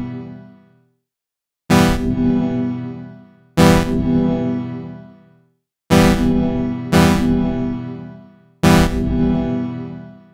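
Convolution reverb in Bitwig applied to a synth chord with no pre-delay: five loud harmonic chord hits, each one blooming straight into a smooth reverb tail that fades over a second or two, with near-silent gaps between some hits.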